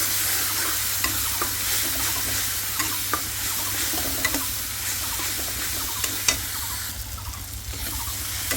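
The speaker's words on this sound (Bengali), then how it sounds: "তো মশলা ভাজা শেষ" Spices sizzling and frying in a pan with oil and turmeric while being stirred, a steady close hiss broken by scattered clicks and scrapes of a spoon.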